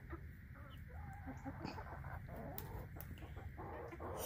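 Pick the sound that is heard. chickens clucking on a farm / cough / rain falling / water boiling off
chickens clucking on a farm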